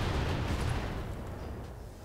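Mech weapons fire in RogueTech, a BattleTech mod, including a Gauss rifle aimed at an enemy mech's head: a heavy, rumbling boom that fills the space at first, then slowly fades with low-end roar.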